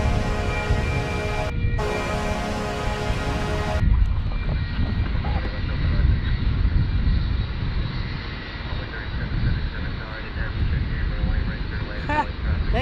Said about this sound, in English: we got a heavy alert for Dreamliner lining up from Shanghai